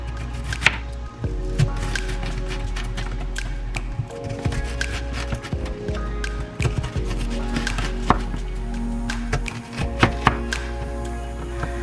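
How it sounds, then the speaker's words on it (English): A knife chops an onion on a cutting board in rapid, steady close-up strokes, crisp taps repeating over a low background hum. "now I'm going to go ahead and chop it like this"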